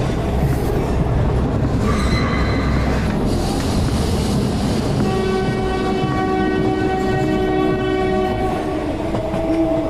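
Train rumbling along the rails late at night, a steady rolling clatter throughout, joined midway by a long sustained horn blast that holds to the end.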